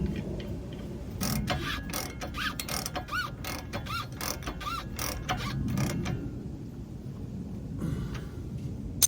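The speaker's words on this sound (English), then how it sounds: "then we're gonna put the nut back on the back of this one" A ratchet wrench threads a nut back onto a Jeep Wrangler steering stabilizer, with quick runs of clicking strokes and metallic rattles up close, then slowing to a pause.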